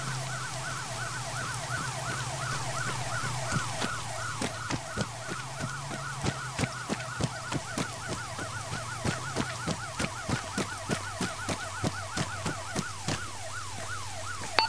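Emergency vehicle sirens in the military video game Arma 3 wail in a rapid rising-and-falling yelp over a steady low hum, loud and continuous, while irregular sharp cracks sound throughout.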